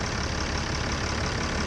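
A 2011 Ram 3500 Longhorn crew cab long box truck's engine idles steadily up close, a continuous dense rumble with no talking over it.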